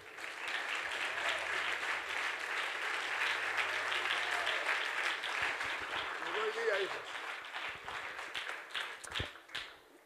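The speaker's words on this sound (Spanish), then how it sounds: "Demos palmas al que vive." Guests at a wedding ceremony in a church applaud together, a soft, sustained patter of many hands that sounds somewhat distant and fades toward the end.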